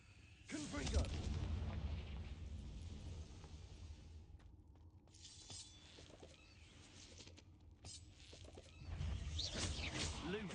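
Confringo fire spells burst in a video game, with loud crackling blasts near the start and again toward the end over continuous game ambience.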